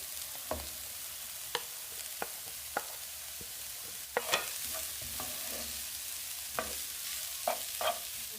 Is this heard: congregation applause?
no